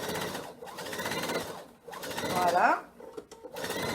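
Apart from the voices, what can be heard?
sewing machine stitching a fabric mask pocket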